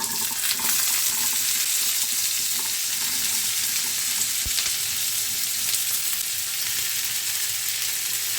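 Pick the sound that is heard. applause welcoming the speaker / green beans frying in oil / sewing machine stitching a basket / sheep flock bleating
green beans frying in oil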